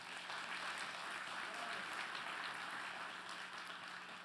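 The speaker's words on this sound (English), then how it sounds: "Let's give the Lord one more praise clap this morning." A church congregation gives a praise clap during a Sunday morning service, a steady, diffuse wash of applause heard faintly from a distance and holding evenly throughout.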